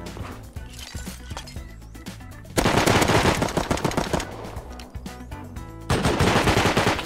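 Video game gunfire during a compound infiltration, with dense rapid bursts of automatic shots in two loud stretches separated by quieter clattering game sounds.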